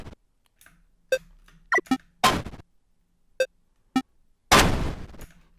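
Retro Pico-8 Breakout game explosion effects: several short sharp synthetic bursts spaced apart, ending with two longer noisy crackling blasts, loud and alone with no talk.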